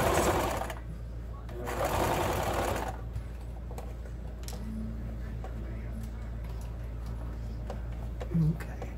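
A sewing machine stitches a pin cushion with a steady, close mechanical hum and rapid ticking, a louder burst at the start, then a continuous run; a person talks briefly over it.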